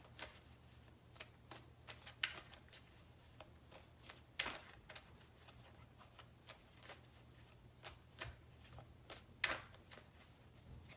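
Tarot cards shuffled in sparse, soft bursts of papery flicks and taps, close by but quiet over a low steady hum.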